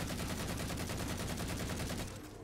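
Rapid automatic assault rifle fire in the video game Halo 4, a steady close burst of evenly spaced shots that tapers off at the end.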